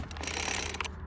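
A two-stroke engine's recoil starter is yanked several times in quick succession, each pull a close, raspy ratcheting whir of cord and pawls, with the engine not yet firing.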